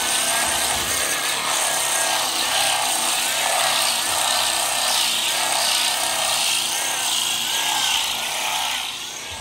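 A power sander grinds steadily on logs, a loud continuous buzzing that holds throughout and eases off slightly at the very end.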